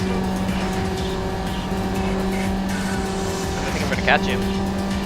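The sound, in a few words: race cars, Mazda MX-5, in video game Need for Speed Underground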